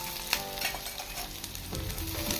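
Onions, ginger, crushed garlic and green chilli with curry leaves and mustard seeds sizzle and crackle in hot oil, with spatula scrapes and stirring clatter close up, loud and continuous.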